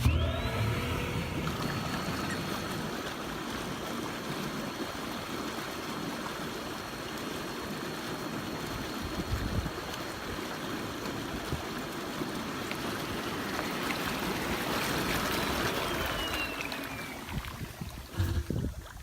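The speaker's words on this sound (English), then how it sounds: "So the hot tub doesn't have any jets, but it does have bubbles, and I'll turn those on real quick." Bubbles running in a Lay-Z-Spa Palm Springs inflatable hot tub, a constant loud churning hiss of air and water that holds steady before cutting off near the end.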